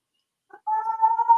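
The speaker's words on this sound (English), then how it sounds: "That sounds like a cat's going crazy over in the bookstore." A cat goes wild inside a bookstore, letting out a single loud, drawn-out caterwauling yowl that starts after a short soft sound and holds for nearly a second, close and clear with no talking.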